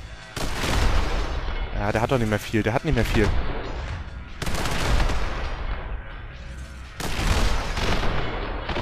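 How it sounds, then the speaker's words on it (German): Assault rifle fire in the shooter video game The Hong Kong Massacre: loud, dense bursts of rapid gunshots in several clusters, with someone talking over the shooting. "Gut, dass ich schon das Sturmgewehr ein bisschen aufgerüstet habe. Dadurch habe ich mehr Schuss und kann einfach länger ballern"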